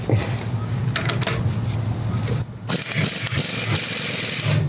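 A 1970s generator set with a Briggs 12-18 hp engine is cranked over: a loud, steady mechanical churning that briefly dips, then resumes harsher and louder, with no talking.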